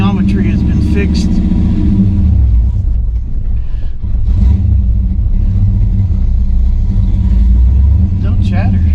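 A 1963 Chevrolet Bel Air with a 4-speed manual idles and runs steadily during a clutch test after clutch-chatter repairs, a loud, close, continuous low rumble with a voice speaking briefly over it.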